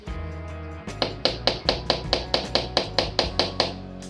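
A hammer drives a nail into a hard wall in a dining room, about a dozen sharp, evenly spaced taps in a steady rhythm, loud and close, following a short stretch of background tone.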